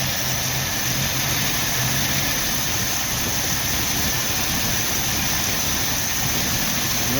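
A 1990 Jeep Wrangler engine idling low, a steady close rumble with constant broadband noise and no revving.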